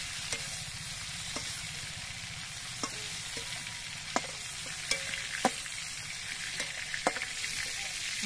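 Shrimp fry in a pan of hot oil with a steady crackling sizzle, dotted with sharp pops and occasional spatula scrapes, no voices.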